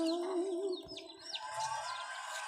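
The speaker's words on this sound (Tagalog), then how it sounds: "Halo-halo dito yung mga ibon mga paps." Mixed wild birds calling outdoors, with a sustained whistled note and several short chirps and sweeping calls overlapping at moderate distance, a faint thump partway through.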